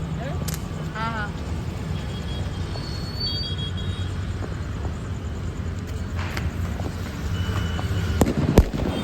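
A Diwali helicopter firecracker goes off outdoors with crackling, whistling bursts and sharp pops over steady background noise, while voices talk nearby.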